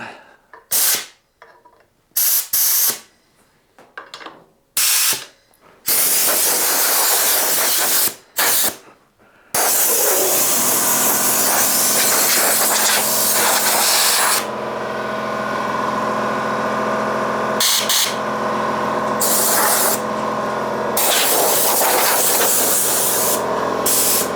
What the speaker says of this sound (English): we better give it a bit of a blowout